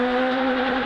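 A rally car engine holds a loud, steady high rev with a strong humming tone, close and continuous for under a second during a stage of the 2015 National Capital Rally.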